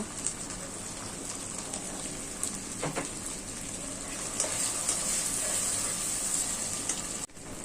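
Spices and ginger paste fry in a pan with a soft, steady sizzle and crackle. Faint stirring scrapes come through now and then, and no one talks.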